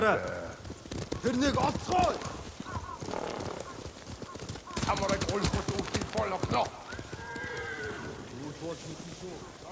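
Hooves clatter in a rapid clip-clop as horses run past in Ghost of Tsushima, with cattle lowing and shouted voices mixed into a busy outdoor scene.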